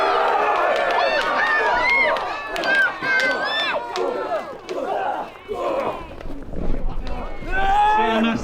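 A crowd at a medieval fort cheers, shouts and roars during a staged medieval combat demonstration, with loud overlapping yelling and battle cries close by, swelling and dipping across the fight.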